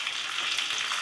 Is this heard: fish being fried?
yes